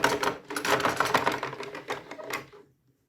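A homemade mechanical calculator is cranked through an addition, producing a quick run of close, rattling clicks and clacks like a typewriter's keys that fades into silence.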